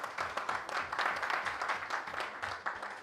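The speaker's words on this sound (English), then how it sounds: "give them a huge round of applause" Conference audience at the Kenya Diaspora Homecoming Convention applauds in a hall, a fairly faint but continuous patter of many hands clapping with small surges.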